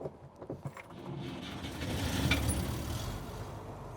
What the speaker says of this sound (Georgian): ჯერ მასკიჩი იქოქება მარცხნიდან და პორშე